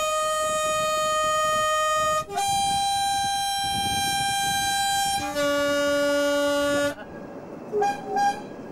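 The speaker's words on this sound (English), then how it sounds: "the local crew celebrate as the British locomotives arrive at the KFOR Military Railway Operation headquarters" British locomotives arriving at the KFOR military railway headquarters in Kosovo in September 1999 sound long, loud, steady horn blasts that shift in pitch, then give two short toots at the end.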